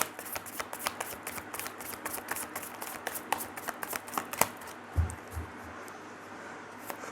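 Tarot cards being riffled and shuffled by hand, a quick run of crisp papery flicks and snaps close up, with a few soft thumps near the end and no talking.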